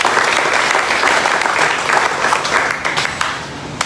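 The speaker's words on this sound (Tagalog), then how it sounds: "Sa malakas sa palakpak para sa ating mga Panginoon." Loud, dense clapping from a church congregation at a Sunday service, continuous and crowded before easing slightly toward the end.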